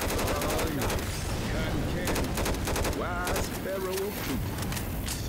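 Rapid bursts of gunfire in the video game Left 4 Dead 2, dense and continuous with staccato automatic fire, loud and up front, with voices talking over the shooting.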